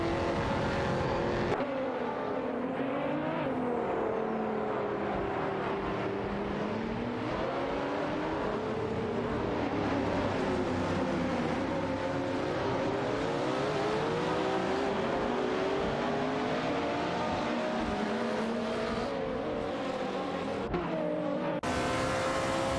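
Video game race with Dodge Viper, Mercedes-Benz SLK 55 AMG and TVR Tuscan S cars, engines droning and revving steadily throughout, with shifting pitch as cars battle for position.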